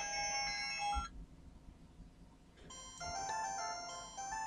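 An incoming call ringtone melody plays on a Senbono GS8 smartwatch: a thin, bright electronic tune that stops briefly mid-clip and then resumes, quiet and without any talk.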